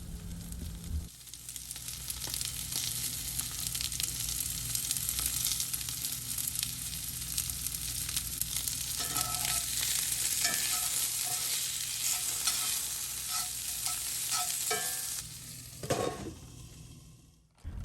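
Potatoes and onions frying in a pan with garlic salt and pepper: a loud, continuous sizzle with repeated scraping and stirring clatter, fading near the end.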